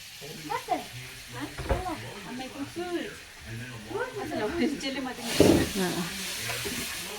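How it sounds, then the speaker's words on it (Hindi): Oil and butter sizzle and hiss in a pan for butter chicken, a steady frying crackle with a louder burst of hiss near the end, under continuous chatty talk. "पहले हमने तेल और मक्खन डाल दिया है ना। बटर चिकन बनाएगा आज।"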